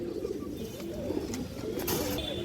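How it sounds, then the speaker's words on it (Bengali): Pigeons, among them a female with a short, stubby beak, coo softly in a loft. The low murmuring calls are faint and blend with a few light clicks and rustles. "একবারে বুট ঠোঁটের একটা মাদি কবুতর"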